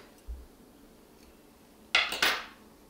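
Crochet yarn is snipped with scissors, two quick close crisp cuts in a row after a faint thump, in an otherwise quiet room.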